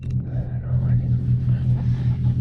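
A manual-transmission car's engine hums low and steady as the clutch engages and it eases away, while someone talks over the rumble.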